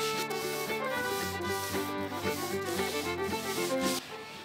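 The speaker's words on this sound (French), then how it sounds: "on est en train de poncer la table et on va la vernir pour demain" Sandpaper rubs back and forth over a wooden table being prepared for varnish inside a converted van, a steady close scraping with tonal hum underneath, continuous and fairly loud, no voices.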